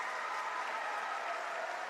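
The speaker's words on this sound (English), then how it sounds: "A big round of applause and a standing ovation for this boys basketball team" Applause and a standing ovation for a boys high school basketball team in a gym, a steady, fairly distant roar of clapping from the crowd without break.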